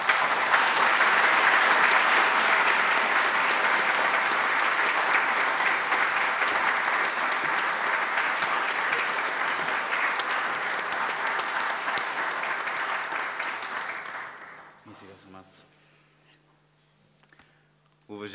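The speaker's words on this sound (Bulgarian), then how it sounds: "Аз сега моля за вашите аплодисменти за основателя на конкурса" Dense, loud applause from a concert hall audience at the National Music Academy's clarinet competition laureates concert fills the room for about fourteen seconds. It then fades away, and a voice starts speaking at the end.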